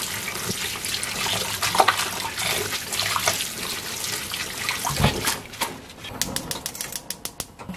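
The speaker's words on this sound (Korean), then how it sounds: "옹잎은 이렇게 깨끗하게 헹궈서 이 뒷부분은 코팅이 돼서 물이 잘 안 튀어요" Burdock leaves are rinsed and rubbed by hand under running water at a sink, with splashing and rustling up close, then a run of sharp taps and flicks near the end.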